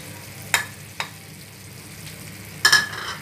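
Ginger garlic paste fries with spiced aloo keema in a pan, a low steady sizzle broken by three sharp scrapes of a spoon against the metal, close by and alone.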